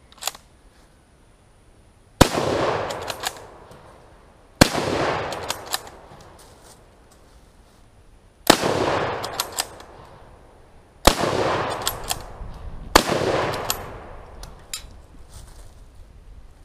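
A Turk Mauser rifle fires six loud, sharp shots outdoors, each followed by a ringing echo that trails off, with pauses of a few seconds between them for working the bolt.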